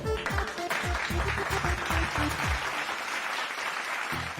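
Close, lively clapping from a small group, dense and sustained for several seconds before thinning out, with some voices mixed in.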